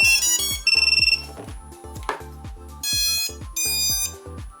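An Eachine Wizard X220s racing drone's onboard buzzer beeps on power-up: several loud, bright electronic tone bursts, including a rapid stuttering run, over a steady repeating low pulsing background.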